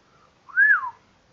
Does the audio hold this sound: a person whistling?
yes